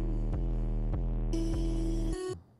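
A fat, booming 808 bass from an electronic track, pulsing in deep sustained hits under a brighter synth layer that joins midway, then cutting off abruptly, with no talking.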